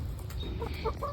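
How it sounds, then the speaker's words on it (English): Backyard chickens pecking at a frozen watermelon treat give a few soft, close clucks over faint garden background, brief and quiet. "the chickens are enjoying their frozen watermelon pop"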